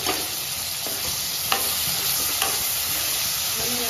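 Onions and sour raw mango pieces roast and sizzle in a pan for mango chicken, a steady close frying hiss with occasional stirring scrapes.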